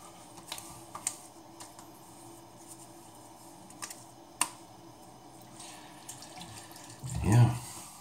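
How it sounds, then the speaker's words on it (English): A bathroom tap runs briefly near the end as water is splashed on the face before a wet shave, following a few light clicks and taps in a quiet room. "I'll get some water on the face and then we'll do the pickups."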